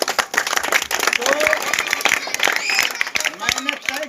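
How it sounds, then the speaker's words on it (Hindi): Audience at a political rally in India breaking into applause, dense clapping from a crowd held steady for several seconds, with a voice briefly heard over it. "तालियां"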